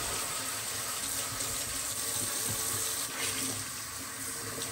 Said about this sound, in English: now this is hot water.